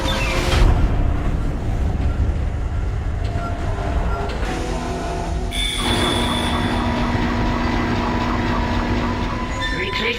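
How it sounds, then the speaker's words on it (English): A tram car rumbles and rolls along its track in the Dead Space game's industrial setting, a loud continuous mechanical roar with squealing, clanking metal and a sharp shift midway. "The tram is blocking the whole system."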